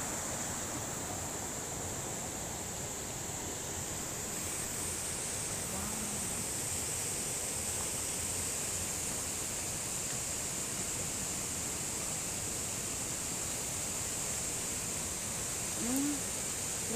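A creek flows beside a planting of taro, a soft continuous wash of running water at low level, steady and distant for the whole stretch.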